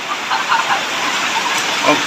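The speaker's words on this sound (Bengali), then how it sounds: "এই সাইডে দেখেন কি পরিমাণ বৃষ্টি হচ্ছে" Loud, dense hiss of heavy rain pouring down steadily during a three-day nonstop downpour, a constant broadband roar close by.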